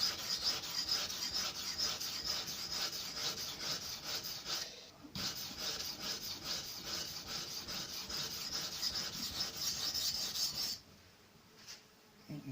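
A knife blade rubbed steadily back and forth on a Scary Sharp sharpening system, refining a secondary bevel after belt grinding, giving a continuous close rasping scrape that stops near the end.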